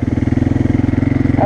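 ATV quad engine on a trail ride, chugging in a steady, fast pulsing rhythm at low revs, close and loud throughout.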